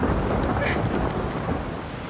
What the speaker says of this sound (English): it starts thundering and gets more intense